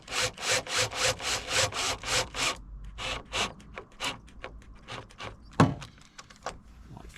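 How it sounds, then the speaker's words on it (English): A hand screwdriver drives a self-tapping screw with a washer into an aftermarket side skirt on a Nissan 300ZX Twin Turbo, making quiet, close, rhythmic rasping strokes that break into irregular scrapes and a sharper click. "Slowly do that up with the screwdriver."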